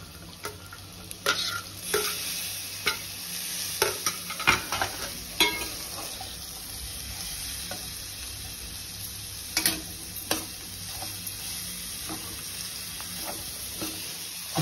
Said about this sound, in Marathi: आता ह्याच्यामध्ये कॅप्सिकम टाकूया आपण. कॅप्सिकम, परत आता चला कोबी वगैरे सगळं टाकून घेऊया.